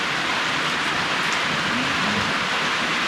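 Heavy rain pours down at night in a garden, a dense constant hiss of drops striking surfaces, with a low roll of thunder beneath it throughout.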